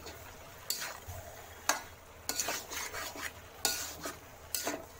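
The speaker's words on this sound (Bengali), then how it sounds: "এখন আমি কচুর লতিটা দিয়ে দেব। ভালো করে নাড়াচাড়া দিয়ে" Taro stolons being stirred through fried coconut in a pan: a spoon scrapes and clinks against the metal in irregular strokes, about six sharp bursts over a soft background sizzle, with no talk.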